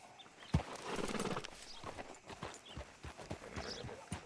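Horse hooves clip-clop on a town street outside a sheriff's office in the video game Red Dead Redemption 2, a steady clopping rhythm of walking steps with a brief whinny-like burst early on, over faint ambient background.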